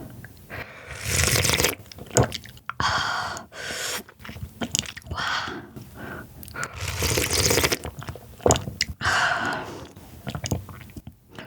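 Close, crisp crunching and wet chewing while eating spicy Korean crab soup with rice and perilla leaves, in bursts of biting and mastication with short pauses between mouthfuls, no talking.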